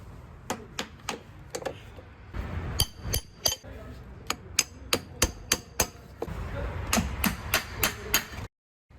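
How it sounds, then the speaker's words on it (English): A hammer strikes the stuck starter motor of a BMW E34 520i barn find, a long string of sharp metallic bangs in irregular bursts, close and loud, ending abruptly. "So I decided to do it the old-fashioned professional way, beating it with a hammer to life."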